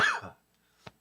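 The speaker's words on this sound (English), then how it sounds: "got my little cough going on still" A single close, sharp cough from a person, followed by a brief faint click after a short pause.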